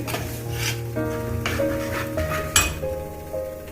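Dried chilies frying in oil over low heat for a Kerala-style fish curry, a soft steady sizzle with a few stirring scrapes and clinks of a spoon against the pan.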